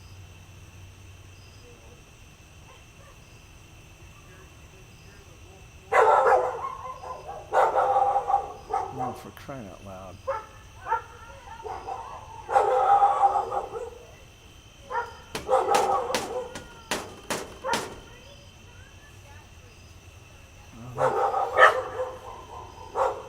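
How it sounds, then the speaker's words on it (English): Dogs bark and yap back and forth across open country, bursts of sharp barks coming in clusters at varying distances between quieter gaps, with someone speaking briefly amid the noise. "Now we have dogs cross country yapping at each other."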